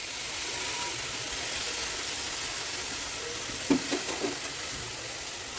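Washed leafy and fruit vegetables for bhogi bhaji sizzling in a pan, a steady soft hiss of frying with a few quick clinks and stirring knocks toward the end.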